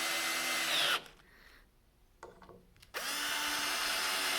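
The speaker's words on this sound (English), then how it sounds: "Now I'm just going to screw this down." A power drill drives screws to fasten down a 3D printed drilling template. It whines loudly and close in two bursts, with a short quiet pause and a few small clicks between them.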